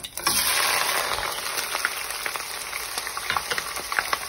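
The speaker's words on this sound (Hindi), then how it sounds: "आपकी प्याज को आप मिक्स कर लें जब तक गोल्डन ब्राउन नहीं हो जाए" Onions with cumin and garam masala fry in hot oil while being stirred for a beef and potato curry, a steady close sizzle with scraping stir noises and occasional small pops throughout.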